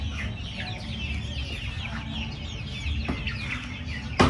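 Chickens cluck steadily from a flock of about ninety birds kept by a backyard poultry raiser, with overlapping calls of varying pitch over a constant low background hum, close and moderately loud throughout.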